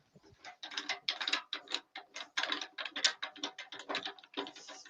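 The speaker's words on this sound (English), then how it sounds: "I'll put the other chuck on, the one I'm used to." Metal chuck being swapped on a wood lathe: a rapid run of close, irregular mechanical clicks and ratcheting clatters from fitting and tightening the chuck, continuous for several seconds with no talk.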